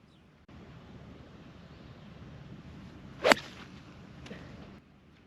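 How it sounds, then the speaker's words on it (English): A golf ball struck with a 5-iron outdoors: one sharp, crisp impact crack partway through, standing alone above soft steady wind noise, with a fainter swishing echo shortly after. "I'm hitting a 5-iron."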